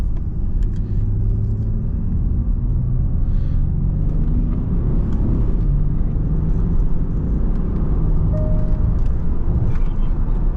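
Steady low engine rumble and road noise from inside a moving Range Rover Sport with a quiet 3.0 V6, smooth and continuous with no sharp changes.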